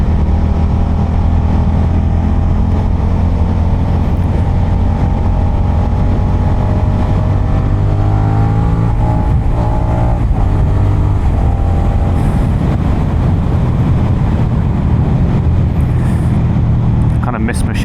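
A 2023 Suzuki SV650 motorcycle is ridden with clutchless gear changes, its engine droning steadily throughout, the tone dipping and rising at shifts, with a rider talking over the engine noise.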